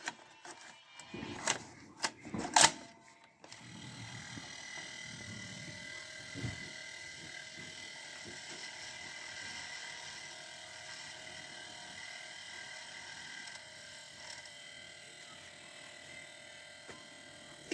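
An old car radio's cassette tape deck mechanism clicks and clunks loudly for a few seconds as the tape loads, then settles into a steady faint whirring motor hum with occasional small ticks.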